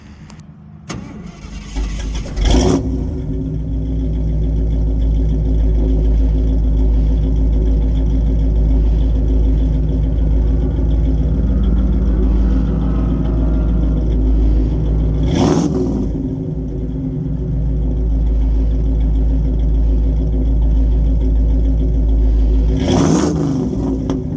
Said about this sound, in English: But first, we got to get that cold start video.